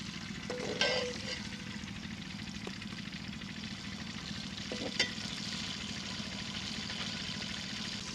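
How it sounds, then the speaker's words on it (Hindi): Chopped onion fries toward golden for a desi chicken dish, a soft, steady sizzle running throughout with a couple of light utensil clinks. "प्याज को गोल्डन होने तक भून लेंगे।"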